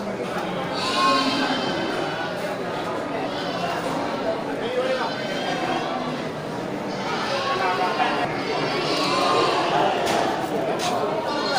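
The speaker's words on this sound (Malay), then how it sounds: "Ya, bandot kecil ya." Young male goats at a livestock pen bleat again and again amid a crowded, noisy background, with people talking throughout.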